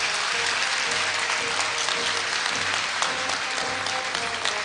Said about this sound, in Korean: 여러분 큰 박수를 부탁드립니다.